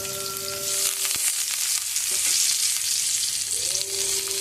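Curry leaves and tempering spices hit hot oil with a loud spattering burst, then a dense close sizzle and crackle, alongside a brief knock and some clinking of utensils.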